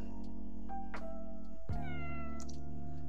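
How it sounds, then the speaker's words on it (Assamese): A cat meows twice in long, drawn-out, tonal cries, loud and close, the second following right after the first. "কেট মানে মেকুৰী।"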